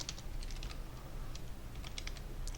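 Quick, light clatter of keys on a computer keyboard, a run of irregular taps heard close but faint over a low background hiss.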